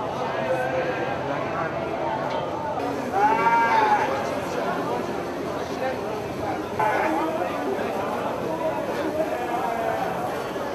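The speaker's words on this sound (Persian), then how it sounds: "حدود 1800 رأس گوسفند اومده توی این میدون" Sheep bleating at a crowded Eid al-Adha livestock market in Iran, with around 1800 head gathered in the yard; several clear bleats rise over constant crowd chatter and nearby talk, one loud call standing out early and others scattered farther off.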